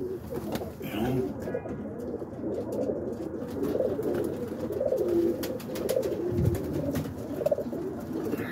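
Kit pigeons coo steadily near and far in a loft setting, a continuous low warbling murmur from several birds with faint chirps over it.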